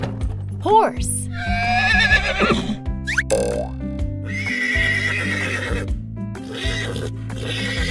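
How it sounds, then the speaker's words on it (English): A horse whinnies loudly and up close in a long, shaky neigh, then hooves clip-clop and further neighing follows, all above a soft music bed. "Horse."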